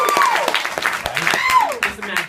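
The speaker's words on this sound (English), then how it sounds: "Can you guys cheer just for 2 seconds?" A small comedy-club audience of a few people cheering and clapping, loud close whoops and scattered claps with whistle-like shouts rising and falling throughout.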